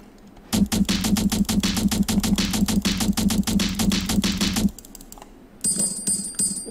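Rapid mouse clicking while playing the idle clicker game Tap Tap Infinity, a fast steady stream of sharp clicks for about four seconds, then a short pause and more clicks under a faint game jingle.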